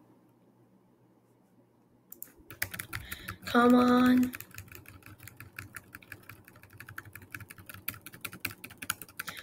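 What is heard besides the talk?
typing on a computer keyboard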